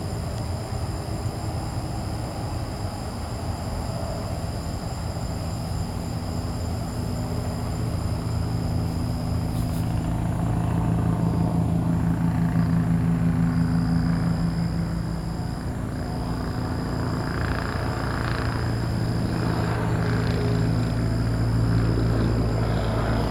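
Helicopter circling for hours over an apartment: a steady, loud low rotor drone fills the whole stretch, swelling slightly in the middle as it passes nearer, with a faint high whine above and no talk.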